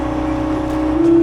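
A Bobcat machine fitted with a grader attachment runs with its engine at raised RPM, a steady droning hum with a strong low tone that rises slightly in pitch toward the end.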